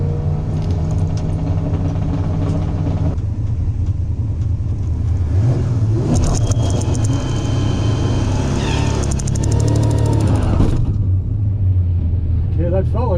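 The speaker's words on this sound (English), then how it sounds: "Hopefully we can do a burnout." A car at the Miles of Mayhem 2024 event doing a burnout, its engine droning steadily and revving higher in the middle, loud and close throughout with voices talking over it.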